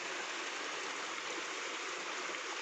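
Irrigation water pouring into a field channel on a farm gives a continuous, even splashing rush that stays close and steady from start to end.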